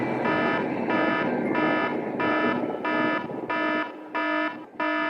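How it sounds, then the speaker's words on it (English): A digital alarm clock rings in regular beeping bursts, eight loud buzzy tones in an even rhythm with short gaps, sounding alone and close. "Oh, why is there an alarm at 7:30?"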